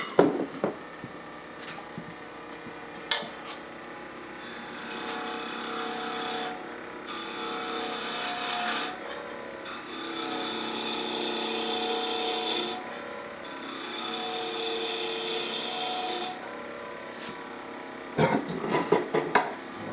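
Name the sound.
roughing gouge shaping wood on a lathe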